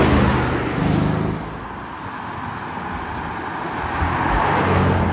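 An Aston Martin supercar, one of many Astons including a GT3 Touring, arrives at a prestigious supercar event, its engine a steady broadband roar that swells, dips midway and builds again amid general road and crowd ambience.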